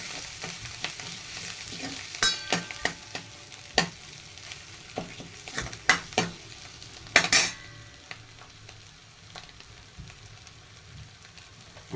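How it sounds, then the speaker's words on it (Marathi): A spiced masala mixture for a sprouted moth bean curry is sautéing in a pan. It gives a continuous sizzle broken by sharp, repeated scrapes and clinks of the spatula, which are loudest through the middle. "असं परतून घ्यायचं चांगलं"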